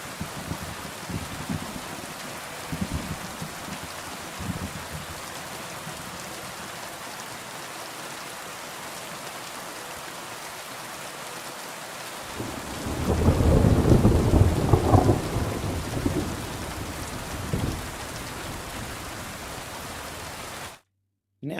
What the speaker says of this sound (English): Sun Yangtze, how's the rain sound now?